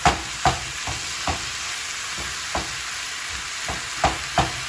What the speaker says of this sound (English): We're going to break this up and brown up the hamburger.